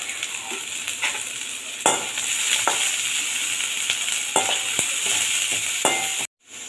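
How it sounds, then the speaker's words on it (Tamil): Spring onion, capsicum and other vegetables sauté in a hot pan, giving a continuous bright sizzle with a spatula scraping and stirring at intervals, close up, ending in a short break. "வெங்காயத்தாளா அது, கேப்சிகம், வதக்கி விடு, கீழே அடி வச்சிடும்."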